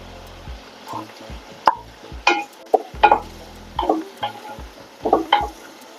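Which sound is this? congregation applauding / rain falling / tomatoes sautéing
tomatoes sautéing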